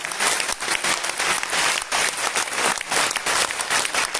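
A live audience at a motivational business coaching event claps loudly and steadily, a dense wall of applause that swells and dips slightly over several seconds with no talking heard.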